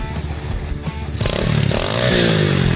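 An SSR 125cc pit bike engine idles with a rough mechanical clatter, then revs up loudly and holds a rising, buzzing high-rpm tone, close and alone.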